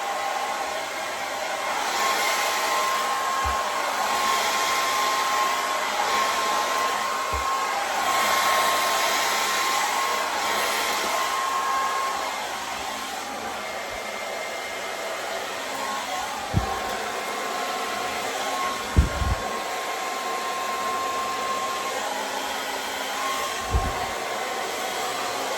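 Hair dryer blowing steadily while hair is blow-dried with a round brush for a blowout, a loud continuous airy whoosh with a slight shift partway and a few faint knocks of the brush near the end.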